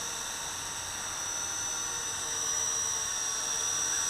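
A Fayee FY550 quadcopter drone hovering outdoors in a light breeze gives a steady, close, high-pitched buzzing whine that swells slightly louder toward the end, with no voices.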